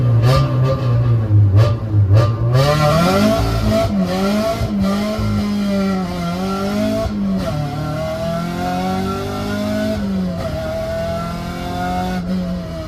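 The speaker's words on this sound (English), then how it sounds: "Here we can do a little 0 to 60 test on this very straight, safe drag strip" A 1997 Honda Civic with a JDM B20B engine accelerates hard from a standstill on a straight drag strip. It sounds loud and close, with the engine climbing through repeated rising gear pulls and brief dips at each shift, and no one speaking.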